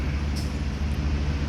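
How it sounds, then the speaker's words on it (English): Steady low rumble of idling trucks and engines at a Flying J truck stop in Elkton, Maryland, a continuous dense roadway drone with a brief faint hiss. "Flying J truck stop"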